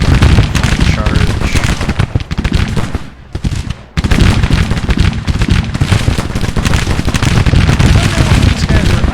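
Massed musket volleys from Civil War infantry in the strategy game Grand Tactician: The Civil War crackle in dense, overlapping bursts, loud and nearly continuous apart from a brief lull in the middle.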